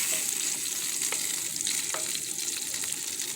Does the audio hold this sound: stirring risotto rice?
yes